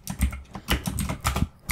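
Rapid clattering keystrokes on a computer keyboard as code is typed, close and fairly steady with short bursts and brief pauses, no voices.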